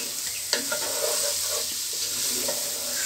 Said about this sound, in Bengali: এই যে আলু বোখরা দিয়ে দিচ্ছি, এটা দিয়ে একটু নাড়াচাড়া করে নিব সুন্দর করে